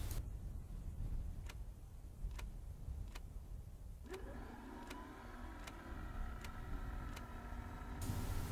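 Circuit breakers pushed in one after another in a Bf 109 K-4 cockpit in the DCS flight sim: a steady series of sharp, evenly spaced clicks, close and clear, over a low background hum.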